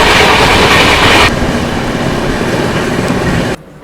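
Shatabdi Express passenger train running at about 130 km/h with a flat wheel, giving a loud, close, continuous roar of rolling rail noise that eases slightly partway through before cutting off abruptly near the end.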